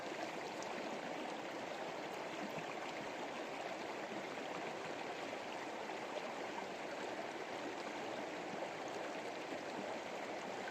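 Water swishes and flows steadily around a gold pan being rinsed in a stream along the Yuba River, a continuous close wash of trickling and gurgling with no break and no voices.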